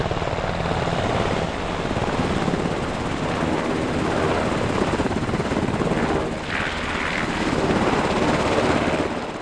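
Two UH-60 Black Hawk helicopters carrying troops during an airshow demonstration at Oshkosh, their rotors producing a loud, continuous chopping roar throughout.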